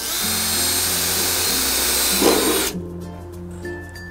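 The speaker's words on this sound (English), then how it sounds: "you use them as a guide to drill through your cross beam" A power drill bores through the cross beam of a steel skillion carport frame, guided by pre-drilled bracket holes; a loud steady whine runs for under three seconds, then cuts off, leaving quieter background noise.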